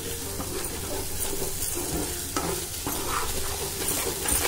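Mutton curry in a pan with chilli powder being stirred in: a constant frying sizzle with repeated scraping strokes of a spoon, close and fairly even in rhythm, with no one speaking.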